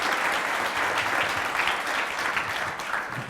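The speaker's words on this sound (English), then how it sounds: "You can clap." Applause from a conference audience after a digital advertising keynote in London, a steady dense wash of many hands clapping close and loud throughout.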